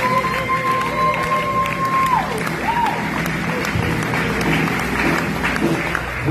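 Audience applause at a ceremony where teachers receive a prize: steady clapping with scattered cheers and crowd noise, plus a sustained tone sliding briefly in the first few seconds.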